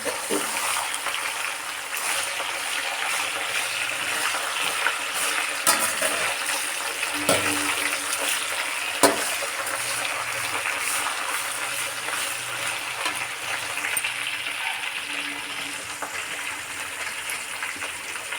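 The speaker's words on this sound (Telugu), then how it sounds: "ఇలా ఆయిల్లో ఫ్రై చేసుకోవాలి ఫ్రెండ్స్." Gongura leaves fry in oil in a pan, giving a long steady bubbling sizzle with intermittent stirring knocks and scrapes, fairly close and without speech.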